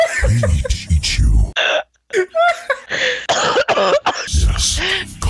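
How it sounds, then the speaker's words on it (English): A voice in a Fortnite Battle Royale session coughs repeatedly in harsh, close bursts with short gaps, close to the microphone. "Yes, cough it all up."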